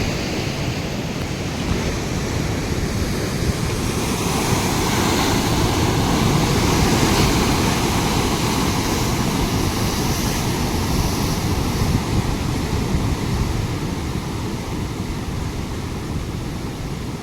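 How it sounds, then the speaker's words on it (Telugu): Large waves crash near a bridge at Ravipolavaram in heavy rain, making a continuous close, loud roar of surf blended with wind across the whole stretch. "చిన్న చిన్న అలలు అయితే చూస్తాం, కానీ ఇవి చాలా భారీ అలలు అయితే వస్తున్నాయి చూడండి"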